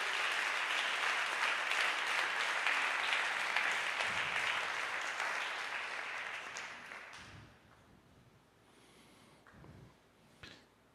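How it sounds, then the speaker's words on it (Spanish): A church congregation applauds in sustained, dense clapping for about seven seconds, then fades out, leaving a quieter room with a few faint shuffles and knocks. "Anímense dándole un aplauso al Señor."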